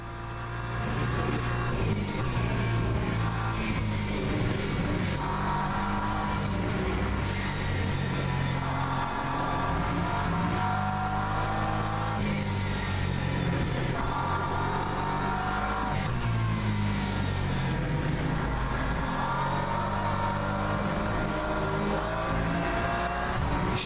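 A Porsche race car in Le Mans Ultimate roars loudly and continuously for the whole stretch, its engine note rising and falling through gear changes with no talk over it.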